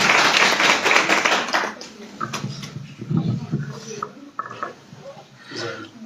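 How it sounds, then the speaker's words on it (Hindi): An audience at a student certificate ceremony held by JKAS officers bursts into brisk clapping for about two seconds, which then thins out into scattered claps and murmuring voices. "जोरदार तालियां"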